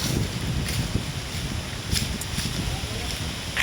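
Strong wind outside rushes in a constant broadband roar, buffeting close to the microphone with gusty surges throughout.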